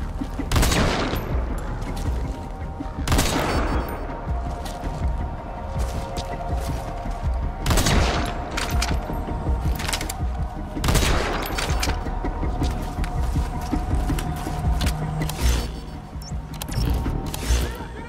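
Gunfire in the video game Metal Gear Solid V: The Phantom Pain, heavy bursts of shots and booming impacts recurring every few seconds over a rumbling background, with brief voices.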